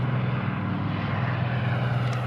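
Engine drone of a Caribou military transport aircraft operated by the Australian Air Force in wartime, a steady loud propeller hum heard continuously and close, with no speech.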